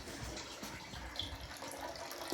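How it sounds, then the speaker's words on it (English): Water trickling out of a large gas-fired Columbia steam boiler during blowdown, a quiet, steady watery hiss and gurgle lasting throughout with no talking. "And this water will trickle out."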